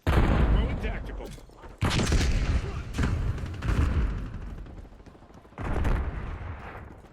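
In the shooter game Call of Duty: Black Ops 6, a frag grenade goes off amid gunfire, heavy booming blasts and bursts of shots recurring in loud waves with brief lulls between them.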